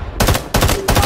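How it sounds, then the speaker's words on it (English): Automatic gunfire in Rising Storm 2: Vietnam comes in three loud, close bursts separated by short pauses, with no voices over them. "We're getting shot."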